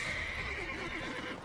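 A horse in The Witcher 3 video game gives a loud, wavering whinny that rises and falls over a steady background of game ambience and score.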